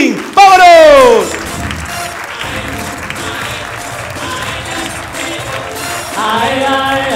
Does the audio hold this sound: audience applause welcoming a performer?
yes